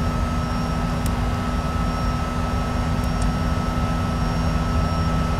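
Steady, loud airliner engine drone of a JAR A320neo in a flight simulator game, a continuous broadband roar with a constant tonal hum and a few faint clicks, no speech.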